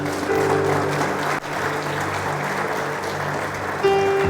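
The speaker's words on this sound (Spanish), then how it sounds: "¿Cuántos aplauden el nombre del Señor?" A church congregation applauds steadily and fairly loudly throughout, a dense wash of clapping with no pause.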